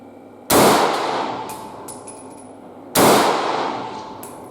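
An SKS rifle rebarrelled as a smoothbore in 366TKM fires two loud, close shots about two and a half seconds apart, each a sharp crack followed by a long ringing decay.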